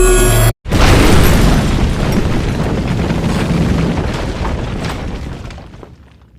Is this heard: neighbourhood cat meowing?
no